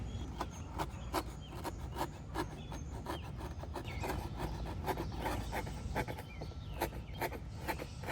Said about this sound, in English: So now you can go cut out your flap.